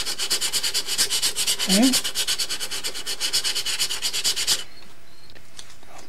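Sandpaper rubbing rhythmically over the primed hull of a model Ohio-class submarine, steady rapid strokes close up, stopping abruptly near the end; a voice speaks a single brief word.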